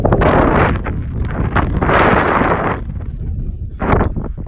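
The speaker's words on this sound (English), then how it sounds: "It is windy." Strong gusts buffet a windy mountaintop ridge, coming in rough, roaring waves with brief lulls between them, close and loud against the microphone.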